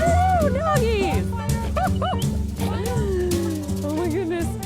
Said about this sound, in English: Tiki has 42 St. Bernards.